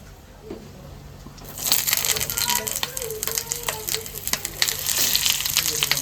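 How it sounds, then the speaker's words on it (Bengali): Fish dropped into hot oil in a wok, bursting into a loud, steady sizzle and crackle that swells after a quiet start, close by, with faint voices underneath. "এবার আমি মাছটা ভেজে নেব"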